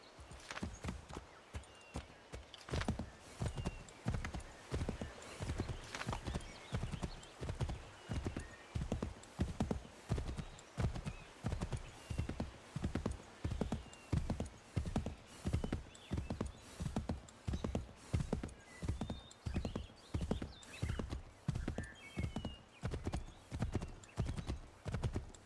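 A horse in the video game Assassin's Creed III: Remastered moves at a fast gait, its hooves clopping in a steady, rapid rhythm that continues throughout, close and prominent, with occasional snorts.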